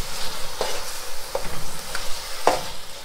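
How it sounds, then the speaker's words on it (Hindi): Pumpkin pieces stirred and roasted in sugar syrup in a pan for halwa, with a steady bubbling sizzle close by and a few sharp scraping strokes of the spoon against the pan, without any speech. "अभी हम इसमें जो पेठा हमने उसको निकाल लिया था, वो इसमें शामिल कर देंगे। अच्छी तरह से भूनेंगे इसमें।"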